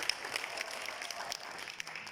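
Audience at a financial freedom speech clapping in a steady round of applause, moderately loud and continuous with no voices over it.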